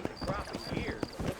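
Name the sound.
horses clip-clopping and neighing in the video game Red Dead Redemption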